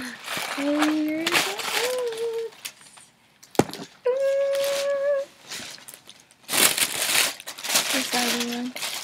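Tissue paper rustles and crinkles while a pair of Uggs is unboxed, coming in bursts of crackling between and under a person's talking.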